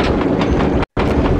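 A train in Sly 2: Band of Thieves gives a steady, loud rumbling clatter of wheels and carriages, broken by one very short silent gap, with no talk.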